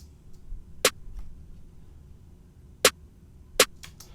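Sharp trap snare hits programmed in Logic, two snares panned to opposite sides, three crisp isolated cracks spread over a quiet background with faint ticks between.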